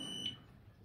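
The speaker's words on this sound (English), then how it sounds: "That's just an alarm you hear." An electronic alarm chirps once with a thin, high tone over a low room hum, heard briefly at moderate distance.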